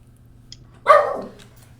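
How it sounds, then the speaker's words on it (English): A single sharp dog bark rings out clearly against a quiet background, trailing off quickly, with a faint click just before it. "Dog."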